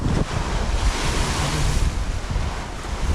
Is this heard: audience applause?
no